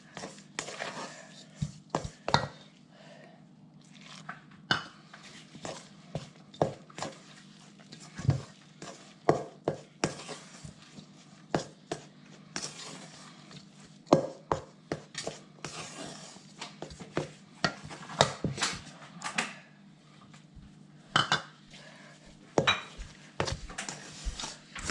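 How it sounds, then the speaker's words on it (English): A spatula scrapes and knocks around a bowl while mixing milk and flour into a savory scroll dough, giving repeated irregular clacks and scrapes at close range; speech-like sounds occur faintly in the background. "use your spatula, not your hands, to bring it into a dough"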